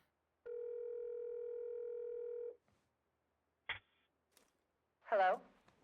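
A telephone line tone holds steady and clear for about two seconds, then gives way to a couple of faint clicks and a short burst that sounds like a distant voice on the line.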